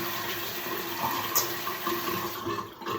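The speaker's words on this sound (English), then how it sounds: "And now I get my razor, rinse it off" Steady running tap water in a bathroom as a shaving razor is rinsed under it, a continuous close splashing flow with no talk.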